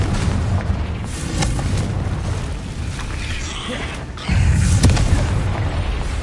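Confringo fire spells from Hogwarts Legacy go off as loud booming blasts, with a heavier burst near the end standing above constant rumbling battle noise.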